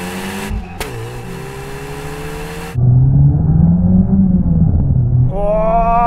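VW Golf GTI cars in a drag race, one engine droning and then revving up loudly with shifting pitch, followed by a second engine rising in pitch near the end.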